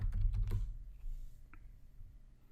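A few fast keystrokes on a computer keyboard, typing a short search word into a settings field, close and brief, followed by a single isolated click and then quiet.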